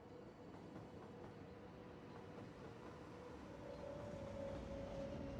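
A train runs along its track in the city-building game Cities Skylines, a steady low rolling rumble that swells slightly louder toward the end, with a faint tonal hum, no talking.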